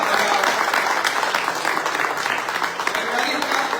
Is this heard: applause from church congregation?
yes